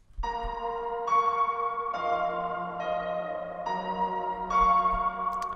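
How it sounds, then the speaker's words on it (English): Synthesized strings play sustained chords in sequence through a Valhalla Vintageverb Strings Hall reverb preset, each chord blooming into a lush, detuned, slowly decaying wash, alone and fairly quiet throughout. "this next effect is actually the favorite from the list, which is the Valhalla Vintageverb."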